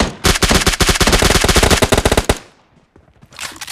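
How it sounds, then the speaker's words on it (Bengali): Rapid sustained minigun fire in a mobile shooter game, a loud continuous burst of closely spaced shots lasting about two seconds, then a short quiet gap and a fainter rumble at the end. "এই যে আরেকটা ফায়ার দিচ্ছে, মিনি দিয়া ফায়ার দিচ্ছে।"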